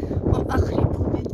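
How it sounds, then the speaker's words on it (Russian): Wind buffets the microphone in a steady, low, roaring rumble that covers everything else for the whole moment. "Очень ветреная сегодня погода."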